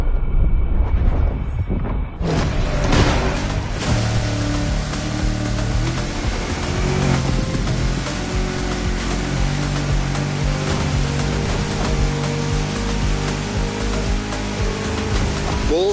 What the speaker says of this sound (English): These waves are not easy to navigate.